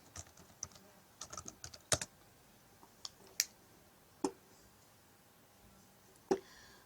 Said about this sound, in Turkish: buradan şifremi yazıyorum hemen